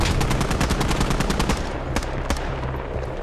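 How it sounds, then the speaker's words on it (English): Rapid machine-gun fire from a remote weapon station in a military shooter game, a loud fast continuous burst for about a second and a half, then a few isolated distant cracks over a steady low hum. "No, it's a machine gun."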